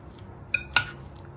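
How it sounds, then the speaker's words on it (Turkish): Boiled potatoes being mashed with butter into purée in a pot, with two sharp metallic knocks of the utensil against the pot over a quiet kitchen background. "Şöyle patateslerimizi bir güzel püre yapmaya tabii ki. Tereyağı ekledim içerisine."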